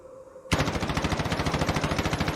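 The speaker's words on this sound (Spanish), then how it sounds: "Una ráfaga de disparos alcanzaron a Legión." A sudden, sustained burst of rapid automatic gunfire, loud and close, with shots firing in a fast, even rhythm after a short quiet lead-in.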